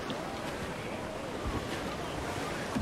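Sea waves and wind rushing around a sailing ship on open water in Assassin's Creed Black Flag, a steady broad wash of surf noise with no speech.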